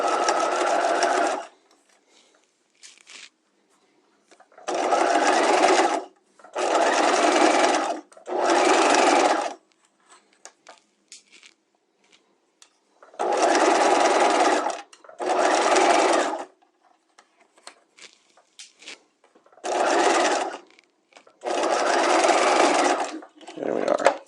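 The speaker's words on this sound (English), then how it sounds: "I'm going to stitch this on at 1/4 inch" A sewing machine stitches an in-seam pocket lining at a quarter-inch seam, in about nine separate loud, close bursts of a second or two each, separated by near-silent pauses.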